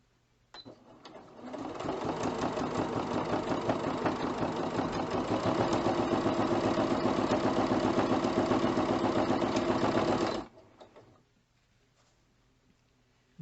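Singer Quantum Stylist 9960 sewing machine stitching cut-up cotton bed sheet fabric, a loud steady motorized whir with rapid needle chatter running about nine seconds before stopping, alone without talk.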